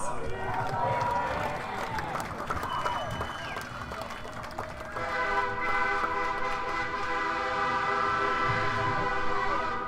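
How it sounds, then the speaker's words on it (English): A passing train sounds a long, loud, sustained horn over rumbling rail noise near an outdoor Class of 2020 graduation ceremony, with a voice speaking and some clapping during the first half. "The train also congratulates the class of 2020."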